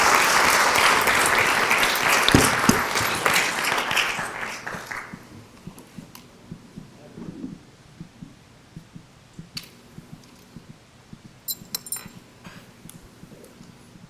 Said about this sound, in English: One more round of applause for both of you